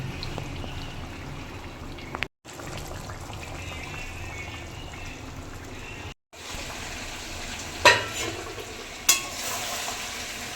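Punjabi mutton curry frying over a low gas flame in a pot while being stirred, a steady sizzle with soft scraping, two brief silences and a couple of sharper clanks toward the end.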